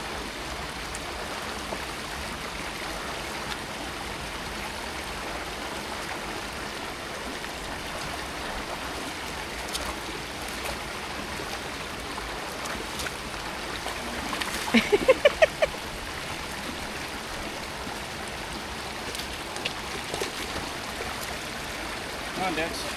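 A steady, low rush of stream water flows along the Catwalk Trail in New Mexico, faint and continuous, with a brief burst of splashing or clatter partway through.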